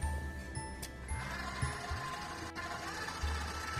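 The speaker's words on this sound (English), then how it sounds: "So stop the mixer, add the eggs, and mix for another minute." A stand mixer works eggs into butter with a close, steady motor whir and uneven thumps and rattles from the beater, with no one speaking.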